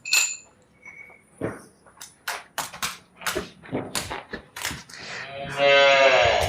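A large-framed dairy cow at a farm moos loudly and close several times in the second half, with clatter and short knocks from the farm shed before it.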